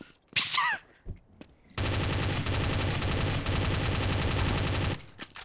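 Rapid automatic gunfire in a video game, sounding as one sustained, dense burst of about three seconds after a brief high squeal and some quiet moments.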